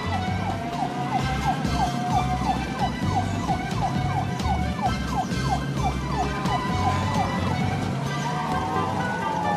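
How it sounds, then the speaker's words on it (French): A cartoon ambulance siren wails in a rapid repeating up-and-down pattern over a steady engine rumble from toy-like cars, continuous and fairly loud throughout, with no talk. "Elle a même doublé une ambulance."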